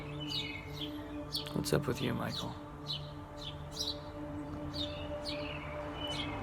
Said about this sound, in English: Really enjoying these birds.